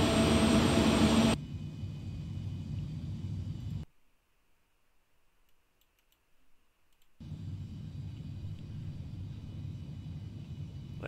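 A Premier 1A business jet's engines whine and rumble steadily at moderate level, cutting to near silence for a few seconds before the engine noise resumes.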